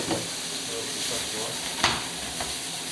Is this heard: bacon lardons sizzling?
yes